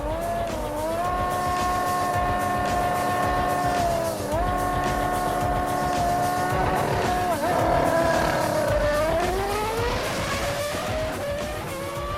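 A race car drag-racing a motorbike, engine note holding a loud, steady howl with rising harmonics and a brief shift dip, then climbing hard again toward the end.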